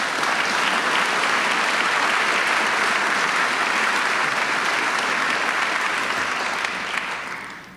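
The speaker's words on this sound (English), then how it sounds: "Let's give him a round of applause." Sustained, dense applause from a large luncheon audience, loud and steady for several seconds before easing slightly at the end, with no voices over it.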